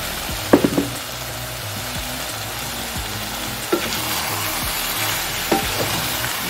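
Native chicken frying in hot oil for a curry soup, a continuous loud crackling sizzle with occasional knocks and scrapes of stirring scattered throughout.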